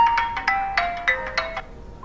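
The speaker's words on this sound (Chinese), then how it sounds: "手机响了。" A mobile phone plays its ringtone nearby as a bright, repeating melodic pattern of short tones that continues steadily without a break and has no voices over it.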